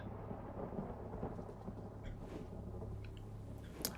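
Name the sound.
thunderstorm in video game Forsaken Castle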